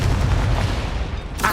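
A Confringo blast spell explodes in the video game Hogwarts Legacy, heard as a loud, rumbling boom with heavy low-end that fades, followed by a sharp burst at the end.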